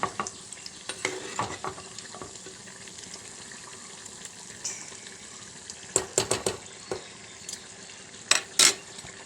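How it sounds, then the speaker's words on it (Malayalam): Fish peera, a Kerala dish of small fish with grated coconut, being stirred in a pan, with soft scraping and a low sizzle and a few sharper clinks of utensil on the pan near the end. "ഒന്ന് ചെറുതായിട്ടൊന്ന് ഇളക്കി വെക്കാം"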